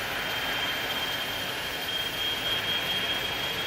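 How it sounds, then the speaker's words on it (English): Jet engines of an iniBuilds A300-600F freighter in the X-Plane 12 flight simulator, heard from outside the aircraft: a steady, loud broadband roar with a high whine, unbroken throughout. "We can listen to the engine sounds here"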